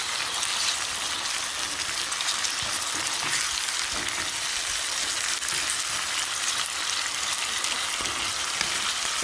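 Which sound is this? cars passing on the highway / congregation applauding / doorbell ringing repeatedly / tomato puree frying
tomato puree frying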